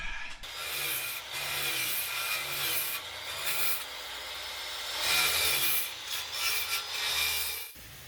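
Aluminum under a teak boat deck being cut with a saw, a steady, harsh rasping grind that runs almost without pause, close and fairly loud, with a brief break near the start and a sudden stop at the end.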